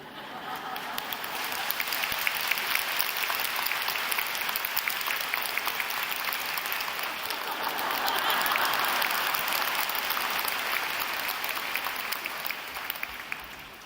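A church congregation applauds during a sermon, long dense clapping that swells and fades over about fourteen seconds, with a little laughter and murmuring in the crowd.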